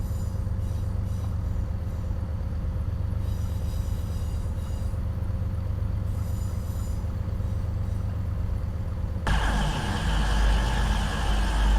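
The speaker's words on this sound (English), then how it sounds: "We have got another train approaching in" A train in the game Train Sim Journeys on the Derby to Sheffield line rumbles steadily with low engine drone and rail noise, then a louder, harsher rush of passing carriages takes over near the end.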